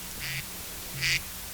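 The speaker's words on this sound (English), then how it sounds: "it would go quack, quack, quack" Two short, nasal duck quacks, the second a little louder, each standing out clearly against a quiet background with silence in between.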